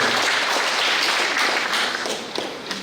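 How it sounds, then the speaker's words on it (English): Audience applause for schoolchildren at a government primary school graduation ceremony, a dense steady wash of many hands clapping that thins slightly toward the end. "the children deserve a special round of applause for all the achievements over the past year or so"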